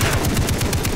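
Gunfire in the shooter game Far Cry 3: a rapid string of loud, close shots in a fast, even rhythm.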